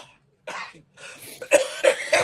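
A man coughs several times after a breathy throat-clearing start, the coughs close and fairly loud, coming in a quick uneven run of three sharp bursts toward the end.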